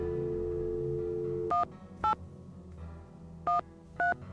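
Touch-tone telephone dialing in a Nancy Drew video game, with four crisp DTMF key beeps in two pairs over a steady low background hum, no talking.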